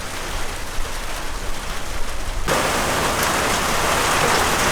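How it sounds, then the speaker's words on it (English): Heavy rain from a substantial thunderstorm on the Appalachian Trail in Connecticut or Massachusetts, a dense, steady roar that swells louder partway through and continues alone with no voices. "This is actually a pretty substantial storm."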